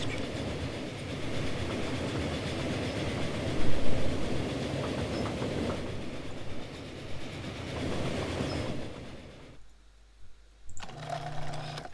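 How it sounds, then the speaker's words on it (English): Train pulling away in the Transport Fever 2 simulation game, with loud, steady rhythmic clickety-clack of wheels on rails that fades at the end into quieter game ambience. "Yep, the train's off."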